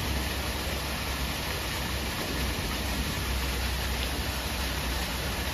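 Steady rain falls at Woodland Park Zoo, a dense, even hiss of drops on surfaces that holds constant throughout with no voices.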